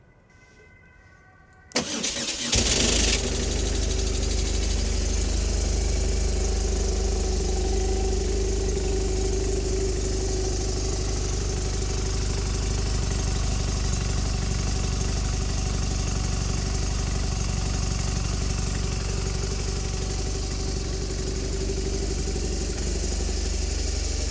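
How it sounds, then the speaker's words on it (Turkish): A motorcycle engine cranks and fires after a short quiet start, then settles into a steady, loud idle that runs on unchanged with no talking. "gelin isterseniz motoru çalıştıralım bir de sesini dinleyelim"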